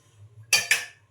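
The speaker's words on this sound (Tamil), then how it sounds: "ஒரு கனமான பேனோ இல்லை இந்த மாதிரி பாத்திரம் வச்சுக்கோங்க." A heavy metal pan set down on a stovetop in a kitchen gives two quick close metallic clanks, ringing briefly over a faint low hum.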